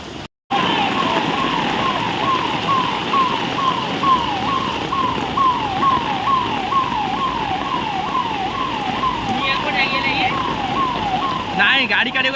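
A fire engine siren wails in a steady, rapid rising-and-falling cycle, loud and continuous over rushing background noise of heavy rain.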